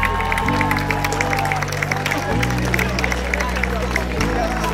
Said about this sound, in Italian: Applauso per loro